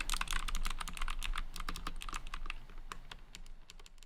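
Rapid typing on a GameStop gaming keyboard with lubed stabilizers, close and crisp, a fast irregular patter of keystrokes that thins out slightly toward the end.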